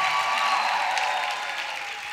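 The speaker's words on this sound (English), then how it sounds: "let's give them one more round of applause" Concert audience applauds a live band at a fall show, a brief but loud, dense burst of clapping from many people that fades a little toward the end.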